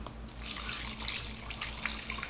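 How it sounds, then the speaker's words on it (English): Warmed chicken wing marinade poured into a Ziploc bag, a steady close liquid splashing and trickling that runs the whole time with no voices. "Now we're going to pour it into the bag and marinate it."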